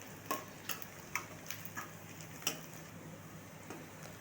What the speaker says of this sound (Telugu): ఒక రెండు మూడు నిమిషాలు ఆనియన్స్ని మగ్గించుకోవాలి